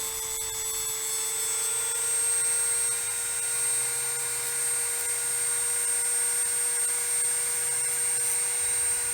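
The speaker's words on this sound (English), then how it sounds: "What a perfect opportunity to use my Dremel tool." A Dremel rotary tool smooths the surfaces of model concrete driveways, giving a steady, high-pitched motor whine that holds level and close throughout without pause.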